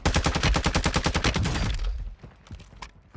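Rapid automatic fire from an ISO Hemlock rifle in Warzone 2, a fast even string of loud, close shots for about two seconds, then scattered quieter distant shots.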